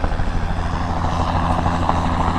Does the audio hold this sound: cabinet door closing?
no